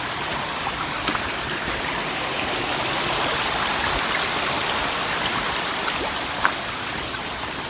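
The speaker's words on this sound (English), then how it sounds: "Coming across another creek crossing." A mountain creek rushes steadily across a hiking trail crossing in the Great Smoky Mountains, a loud close continuous wash of water with a few faint clicks on top.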